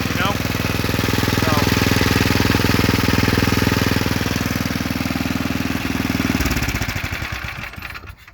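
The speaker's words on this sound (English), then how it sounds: "Love these old Tecumsehs when they just hold an idle perfect, you know?" An old Tecumseh engine on an Ariens 10ML60D snowblower idles loud and close with a steady, even chug, then shuts down and fades out near the end.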